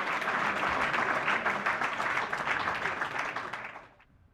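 Crowd of spectators applauding at a rifle and pistol shooting World Cup in Milan, a steady wash of clapping that holds for a few seconds and then fades out.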